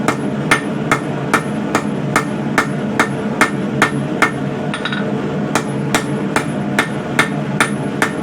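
A hammer forges a coil spring steel bar square on an anvil, sharp ringing blows at a steady, fairly quick rhythm with one brief gap, close and loud over a low background hum, no talking.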